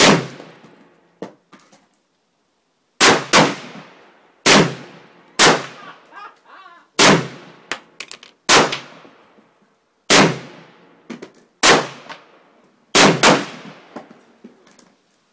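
Rifle shots from a VZ 58 or SKS fire outdoors, eight or so sharp loud cracks spaced a second or more apart, each with a ringing echo tail, and one pause of nearly two seconds.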